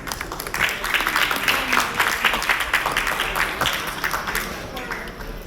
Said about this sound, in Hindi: ये जोरदार तालियां।